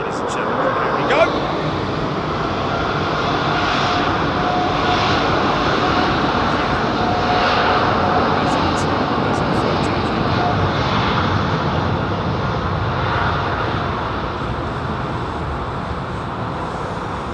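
An Airbus A380 jet airliner departing London Heathrow roars loudly and steadily for the whole stretch, a broad sustained engine rumble that slowly fades near the end.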